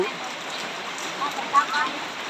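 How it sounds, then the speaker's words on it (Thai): Steady rain hisses continuously, a dense wash of falling water with a few faint splashes, heard close and even throughout. "กับบรรยากาศรอบข้างกับฝนตก"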